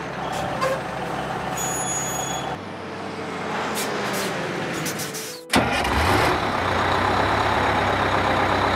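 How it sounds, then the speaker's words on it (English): A fire truck engine rumbles and idles up close, with air-brake hiss and a sudden loud burst of engine noise partway through. "Fire truck."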